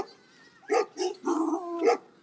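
A large dog gives a few short barks and yips outdoors, close and moderately loud, spaced irregularly over a couple of seconds with quiet between them.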